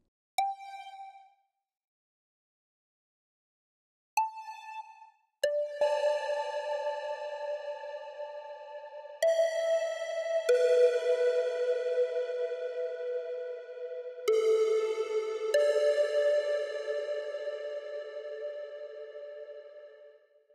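Bright synth plucks of an EDM drop instrument ring out in sparse, sustained notes, each trailing into a long, shimmering reverb tail that hangs and slowly fades.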